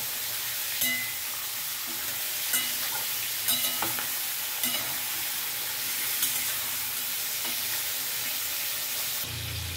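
Pieces of Shivada fish fry lightly in a pan for curry, giving a continuous close sizzle and hiss with occasional soft scraping stirs and light clinks of a utensil, steady throughout with no talking.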